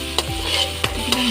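Sautéed kangkong (water spinach) being stirred in a pan, with a few sharp utensil scrapes and clinks against the metal over a soft background sizzle, close and brief.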